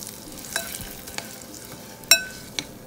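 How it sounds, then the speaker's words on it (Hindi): Hot oil being stirred into a green chili pickle masala stuffing, a soft low crackle and scrape of mixing with a few brief sharper clinks and sizzles rising above it, close and fairly quiet, no talking. "अभी ये सब गरम गरम तेल हम इस मसाले में हम डाल देंगे स्टफिंग के अंदर, और इसको मिक्स कर लो।"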